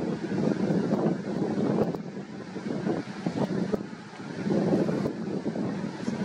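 Strong seaside wind buffeting a camera microphone, a loud, rumbling, gusting roar that swells and dips continuously with no talking, faint surf beneath.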